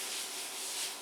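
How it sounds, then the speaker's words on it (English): Flour rubbed by hand into a pastry cloth, a brief soft continuous brushing sound, close and fairly quiet, with no talking. "flour it lightly and just rub the flour into the cloth"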